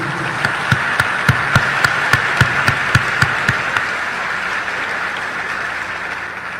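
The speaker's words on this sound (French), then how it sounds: "On encourage le monde de bien avec un gros applaudissement solidarité." An audience applauds at a graduation ceremony in Haiti, a dense steady wash of clapping with a few louder sharp claps standing out at a regular pace near the microphone.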